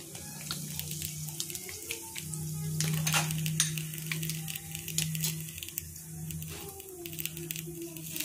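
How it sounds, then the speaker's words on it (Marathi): Mustard seeds and cumin crackle and sizzle in hot oil in a home kitchen, a steady close frying hiss with scattered sharp pops, heard alone. "आपण तेल तापलेलं आहे, मोहरी घालून घेऊ आणि जिरे पण घालून घेऊ"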